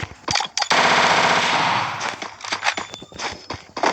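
Rapid automatic gunfire from a video game, a sustained loud burst of shots in the middle with scattered single shots and footsteps before and after.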